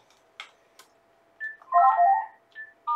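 A home telephone rings indoors, short tonal ring bursts at moderate level separated by quiet gaps, with a couple of small clicks before the ringing begins.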